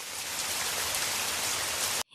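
Steady heavy rain in a Hindi cartoon story, a dense continuous hiss of falling drops that runs loud for about two seconds and then cuts off abruptly.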